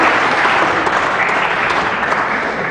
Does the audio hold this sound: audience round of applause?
yes